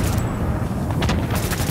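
Gunfire in The Division video game comes as a dense, loud, rapid stream of shots with booming low impacts, sustained without pause.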